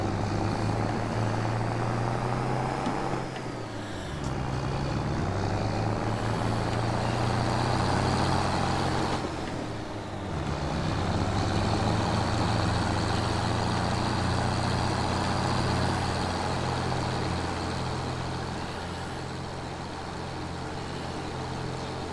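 A Mercedes-Benz MB Trac tractor engine in the Farming Simulator game gives a steady, droning hum with a low rumble. It holds fairly level throughout, with two short dips in pitch and loudness as it shifts or changes revs.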